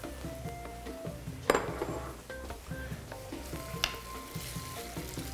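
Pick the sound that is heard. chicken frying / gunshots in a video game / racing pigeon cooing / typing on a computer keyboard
chicken frying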